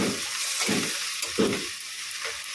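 Snake gourd frying with onion in a pan gives a steady close sizzle, with a few scraping stirs pushing through it. No one speaks.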